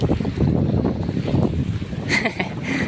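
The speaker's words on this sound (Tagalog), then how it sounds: "Lakas ang hangin." Steady, loud wind buffets the microphone in a continuous rumble outdoors near water, with a brief hiss toward the end.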